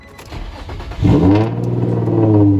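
Infiniti G35 with 190k miles and newly installed spark plugs and ignition coils cranks and starts up at night, the engine catching loudly after about a second and settling into a steady, close idle hum.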